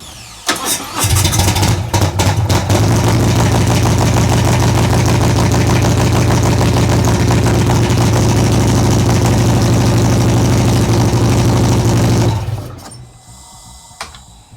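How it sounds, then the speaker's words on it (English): A cold motorcycle that has sat for a few days cranks on a lead acid battery, catches after a moment and settles into a loud, close, steady idle with a low rumbling drone, then shuts off near the end. "So right now, I'm on my lead acid battery. Let's see how the bike sounds starting up."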